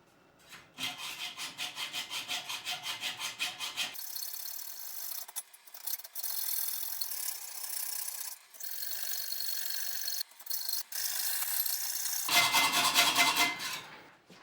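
A hacksaw cuts through a threaded steel steerer tube from a vintage mountain bike fork in steady, rhythmic strokes, then a file rasps over the cut end in longer scraping passes, close and fairly loud, ending with quicker sawing strokes.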